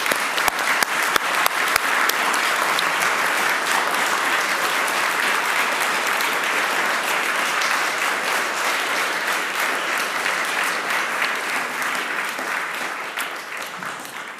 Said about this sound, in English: So just let's give them a round of applause.